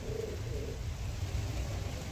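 Malbai pigeons coo softly in a low, repeated rumbling murmur, a little distant, over a steady background hum, with no talking.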